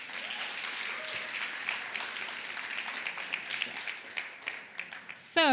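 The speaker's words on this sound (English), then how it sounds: "Can we get another round of applause," A wedding audience gives a steady round of applause that carries on for several seconds and grows a little louder near the end, where a brief sweeping electronic sound cuts in.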